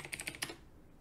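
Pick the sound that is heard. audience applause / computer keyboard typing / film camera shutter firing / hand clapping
computer keyboard typing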